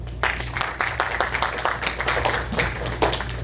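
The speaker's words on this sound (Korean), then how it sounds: "박수 주세요." A lively round of clapping from a school class opening a policy debate on a radioactive waste storage site, dense and steady throughout, without speech over it.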